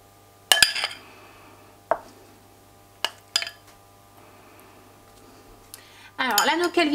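Apple-raisin filling spooned into the cavities of a tart tin, a few separate metallic clinks and taps of a spoon against the tin in a quiet room, followed by a burst of rustling handling noise.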